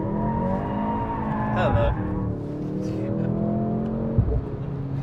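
A Mercedes C63 AMG revs hard in drift mode, its engine howling and rising, with tire squeal partway through. A passenger's brief spoken greeting sits under the engine noise.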